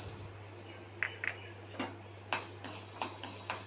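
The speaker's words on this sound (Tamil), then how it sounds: "இப்போ மிளகு சேர்த்துக்கலாம்." Black peppercorns dropped into a pan for dry roasting while making temple-style puliyodharai, a few light ticks and small scattered rattles, faint over a steady background hum.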